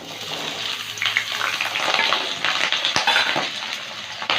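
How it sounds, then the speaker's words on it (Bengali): Potatoes frying in hot oil in a wok, a continuous loud sizzle and crackle with occasional stirring clinks, close up and steady throughout with no talking. "প্রথমে আলুটা ভেজে নেব।"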